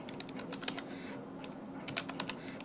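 Steady typing on a computer keyboard while code for a Selenium browser script is entered, with soft clicks in a continuous run and brief bursts of faster keystrokes, close and fairly quiet, with no voices.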